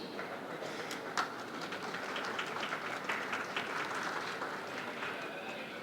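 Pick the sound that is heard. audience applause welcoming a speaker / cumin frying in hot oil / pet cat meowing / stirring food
audience applause welcoming a speaker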